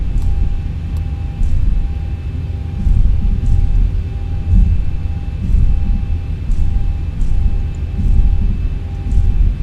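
A simulated Boeing P-8 Poseidon taxis across a runway in X-Plane 11, a steady low engine rumble with a faint constant whine, moderately loud and unbroken, with soft intermittent clicks.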